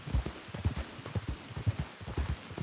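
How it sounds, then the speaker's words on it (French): A white horse's hooves clip-clop in a steady, even rhythm, moderately close and fairly soft. "Non, ah non, ça c'est un cheval."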